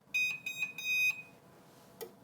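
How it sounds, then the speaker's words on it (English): A heat press timer on a 400-degree, 60-second press cycle sounds a quick series of five sharp electronic beeps, followed by a single further beep a moment later, clear and close. "when the timer's done, it will alert us"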